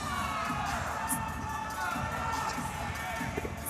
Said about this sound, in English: See a roaring cheer from the OU crowd here